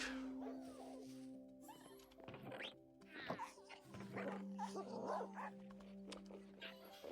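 Tamed dogs in a Minecraft-style video game bark and yip repeatedly in short bursts over a steady humming game background, with a voice talking at times.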